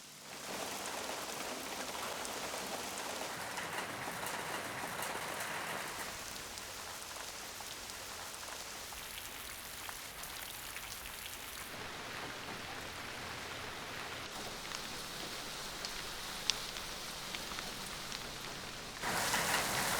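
Rain falls in a steady wash of hiss and patter that shifts in texture and brightness over the stretch, continuous and enveloping with no voices.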